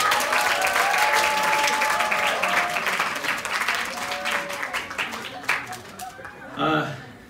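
Sustained audience applause in a school chapel hall welcoming a company CEO to the front for an entrepreneur lecture, steady and dense for several seconds, then thinning out with a few scattered claps and faint murmuring at the end.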